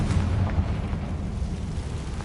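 A Bombarda spell explosion in the Hogwarts Legacy video game, a dense, rumbling low-frequency blast that roars continuously at close range for a couple of seconds without a clear single onset.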